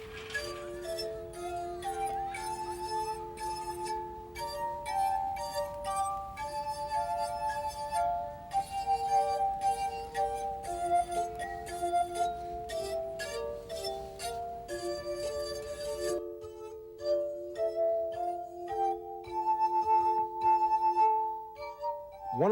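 A glass harp of ordinary drinking glasses plays the Jewish song Hatikva, sustained ringing tones forming a slow, clear melody with overlapping notes, steady and close throughout.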